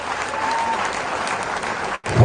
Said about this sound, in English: Please another round of applause for all the cast.